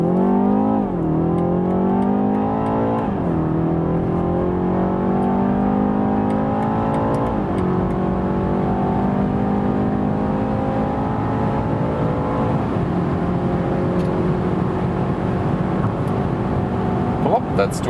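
A 2021 BMW 330i petrol sedan accelerates from 30 km/h, heard from inside the cabin as the engine note climbs repeatedly through several gear changes, rising and dropping in pitch, steady and moderately loud.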